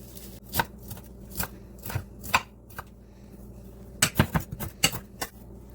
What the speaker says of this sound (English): And just do a rough chop.